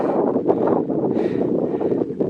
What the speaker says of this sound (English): Starting to get windy.